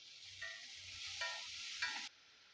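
A vegetable poriyal stir-fry sizzles steadily in a pan, with a few brief scraping stirs rising over the hiss before it cuts off abruptly.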